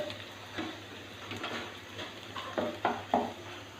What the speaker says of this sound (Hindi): प्याज को अच्छी तरह से लाइट ब्राउन करेंगे हम